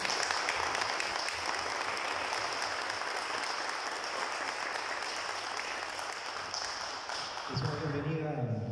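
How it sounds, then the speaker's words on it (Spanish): Loud, sustained applause from a large crowd at a genealogy talk fills the clip, fading at the end as a voice begins speaking. "voy a pedir un fuerte aplauso de todos ustedes"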